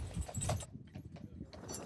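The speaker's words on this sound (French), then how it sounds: "Le cheval est aussi utilisé dans les champs de la régie agricole communale." A working horse used in a town's farm fields walks, its hooves clip-clopping faintly in a short irregular rhythm.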